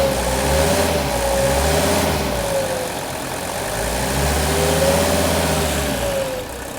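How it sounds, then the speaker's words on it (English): A Mercedes W116 300SD diesel engine runs close by, its steady clattering idle rising twice into smooth revving acceleration and settling back, with no voices. "listen to the engine. Maybe you can notice how much smoother and how much quieter"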